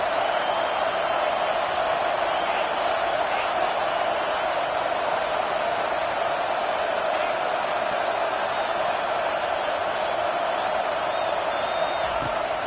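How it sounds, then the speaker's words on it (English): A home stadium crowd roars steadily through a college football game in NCAA 25, a dense, continuous wash of cheering that holds without pause for the whole stretch. "Here comes this home crowd"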